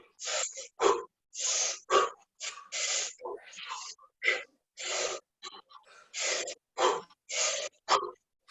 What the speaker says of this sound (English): This breathing really turns up the blood flow.